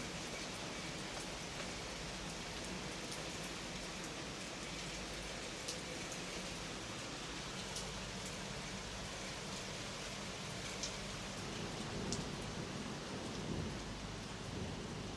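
Steady rain falls through the night in a dense, even hiss on surfaces, with no voices, continuing unbroken and moderately quiet for the whole stretch.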